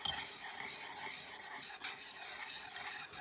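A spoon stirs eggless banana cake batter with vanilla extract in a bowl, giving soft, faint scraping and clinking in a quiet kitchen.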